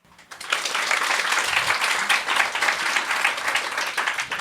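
Audience applause at a live French talk show, rising quickly into a dense, sustained clatter of many hands clapping close and loud, holding steady to the end.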